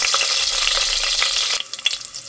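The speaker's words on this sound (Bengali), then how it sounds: "জিরাগুলো সুন্দর একেবারে ভাজা হয়েছে" Whole cumin seeds frying in hot oil with a clove of garlic, a bright crackling sizzle that thins into scattered pops near the end.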